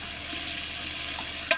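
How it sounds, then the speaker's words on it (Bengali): Meat stir-fried in a pan with potatoes for khichuri, a short, even sizzle close up, ending on one brief clink of a utensil, no speech. "এই যে মাংসটা ঢেলে দেওয়া হচ্ছে। মাংসটা ভালো করে কষানো হচ্ছে।"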